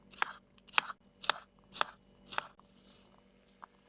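A knife chops zucchini into cubes on a cutting board with five crisp, evenly spaced cuts, each a sharp crunchy thunk. A fainter tap follows at the end, and no one speaks.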